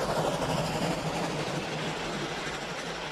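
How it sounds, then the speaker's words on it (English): Heavy, echoing rumble of a train rolling through an enclosed tunnel, a loud continuous roar with faint rhythmic clatter, fading slightly. "That noise is made by a train coming through this tunnel."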